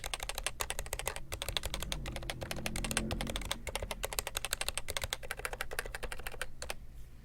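Fast, steady typing on a nearby HHKB mechanical keyboard with typewriter-style keycaps, sharp clicky keystrokes pattering continuously for several seconds before slowing and stopping.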